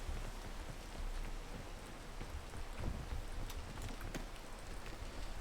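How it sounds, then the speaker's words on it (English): Steady rain in the game PEAK, a dense even hiss with scattered drop patters throughout, moderately loud and constant with no talk. "We've got to get out of the rain."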